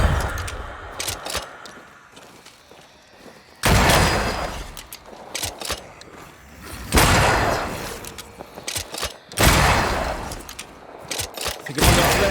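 Bursts of gunfire in the video game Banishers: Ghosts of New Eden, three loud broadband blasts spaced a few seconds apart, with quieter mechanical clatter between them.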